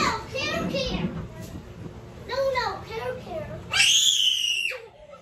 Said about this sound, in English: Please, with the screaming, stop making him scream.